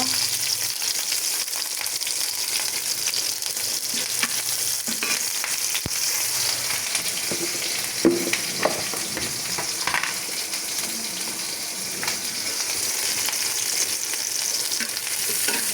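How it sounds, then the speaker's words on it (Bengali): Steady, loud sizzling of chopped garlic, onion and green chili frying in hot oil for bottle gourd greens, with occasional stirring scrapes and clatters throughout. "ভালোভাবে রসুন পেঁয়াজ আর মরিচটাকে আমি ভেজে নেব"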